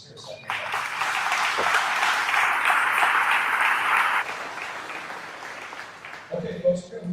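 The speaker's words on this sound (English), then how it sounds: "I've got to give Brad a round of applause." An audience at a commercial realtors' gathering in an unusual venue claps for the host, a steady round of applause that swells, holds for several seconds, then fades into a voice speaking.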